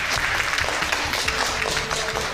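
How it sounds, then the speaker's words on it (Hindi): Steady, dense clapping from an audience at a women's gathering in a Mehrauli school hall, loud and sustained without pause for a couple of seconds with no voices over it. "अभिनंदन ताली करो"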